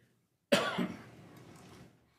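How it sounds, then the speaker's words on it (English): A single sharp cough bursts out loud and close, trailing off over about a second and a half, during a county board of commissioners meeting with no talk over it. "I was coughing."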